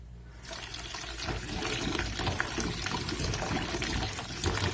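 Peeled potatoes rinsed under running water for mashed potatoes: a steady close splashing rush of water that starts abruptly and continues throughout, fairly quiet.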